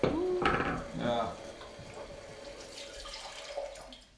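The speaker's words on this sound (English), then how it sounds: "So I pour some more water here." Water poured from a kettle over Sheng Pu'er tea leaves from Lincang during a tasting, a short splashing pour up front that fades to trickles, with faint voices underneath.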